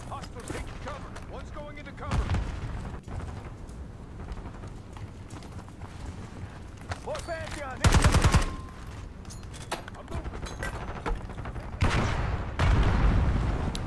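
Gunfire in the Call of Duty Black Ops 6 campaign comes as sharp bursts and loud volleys between quieter stretches, with players talking throughout.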